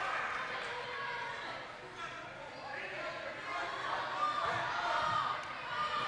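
Crowd noise in a gym during a girls' high school basketball game, a broad murmur and cheering that builds slightly toward the end, with a commentator talking over it and occasional ball bounces.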